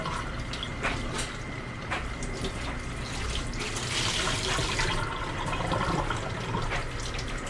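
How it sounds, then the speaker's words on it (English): Water runs steadily from a tap while dye is rinsed out of a pleated tie-dye T-shirt, a continuous close splashing hiss with slight surges and no talk. "That's a little bit of this water washed out of here, or dye washed out of here"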